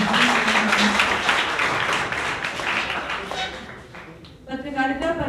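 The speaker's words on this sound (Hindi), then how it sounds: "आप सभी की जोरदार तालियों से मैं स्वागत वंदन" Steady applause from an audience welcoming the chief and special guests on stage at a World Radio Day media dialogue event, dense and sustained, fading toward the end as a voice begins speaking.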